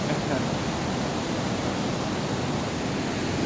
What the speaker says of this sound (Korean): 물소리 정말 우렁찹니다. 잠실 수중부 소용돌이 치고 있는 물소리입니다.